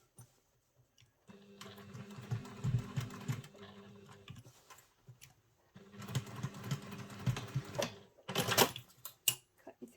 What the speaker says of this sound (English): And then just finish sewing the zip